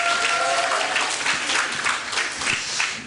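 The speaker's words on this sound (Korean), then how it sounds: "우리 격려의 박수로 미리 격려해 주시기" Congregation applause during a Korean church service, a dense, sustained wash of many hands clapping at once that stays loud and even for the whole stretch.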